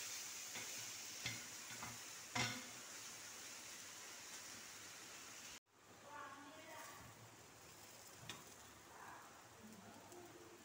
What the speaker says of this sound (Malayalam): അതിലേക്ക് നമുക്ക് കുറച്ച് കുറച്ചായി സോയ ഇട്ട് പൊരിച്ചെടുക്കാം.